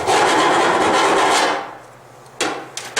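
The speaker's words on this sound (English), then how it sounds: "have a file close by so you can get the corners," Steady rasping scrape of a file worked along a Ford Fairlane's metal panel edge for over a second, then fading, followed by a few sharp metallic taps.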